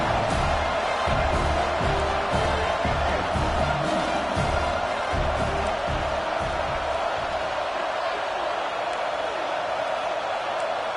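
A packed college football stadium crowd at an Ole Miss game roars steadily on a fourth-down defensive stand, a dense wall of cheering and noise with no break.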